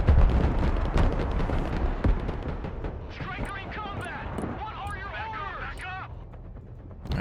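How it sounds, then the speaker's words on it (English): Artillery fire in the modern warfare strategy game Broken Arrow: heavy booming blasts and rumbling impacts in the first half, followed by whistling and screeching effects over continued low rumble. "Okay, they are popping that artillery."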